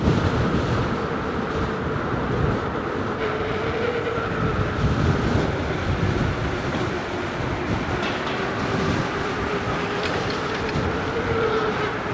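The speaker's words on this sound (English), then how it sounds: "The wind is starting to pick up." Wind roaring steadily past an electric unicycle rider travelling about 30 mph on New York City streets at night, a loud, continuous rushing noise with a low rumble and no pauses.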